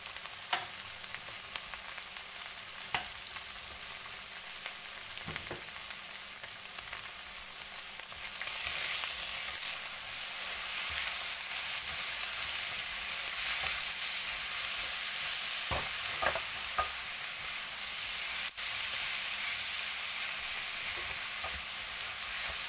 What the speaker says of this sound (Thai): ไข่3ฟองหอมใหญ่กับมะเขือเทศผัดให้สุกก่อนค่ะ